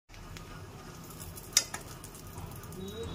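Panch phoron spices, a mix of coriander, cumin, nigella, fennel, fenugreek and mustard seeds, hit hot oil with a soft steady sizzle, a sharp clink near the middle and faint stirring scrapes.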